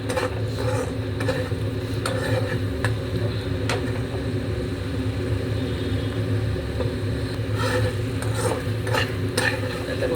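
A spice mixture is stirred in a hot pan, the spoon scraping and clicking in an irregular rhythm over a continuous low sizzle and kitchen rumble, close and moderately loud with no talking.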